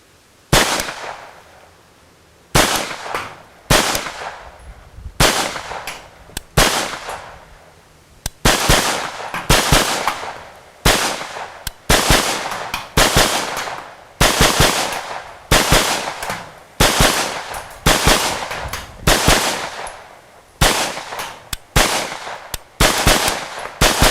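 Masterpiece Arms Mini 9mm pistol firing at an outdoor range, loud close shots in rapid strings and bursts with short pauses between them, repeating throughout.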